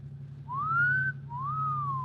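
A person whistles two rising-and-falling notes, the first longer and the second sliding up then easing down, clear and close over a low steady hum.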